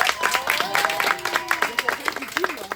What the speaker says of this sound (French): On l'applaudit bien fort, Kadi